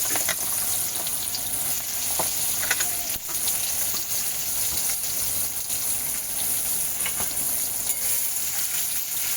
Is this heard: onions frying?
yes